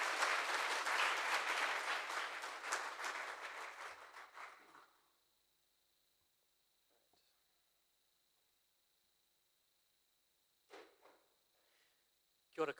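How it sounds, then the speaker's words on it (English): Audience applause at a Plain Language Awards ceremony, a loud dense burst of clapping that fades out over about five seconds into quiet, with a faint brief rustle and a short sound near the end. "A round of applause."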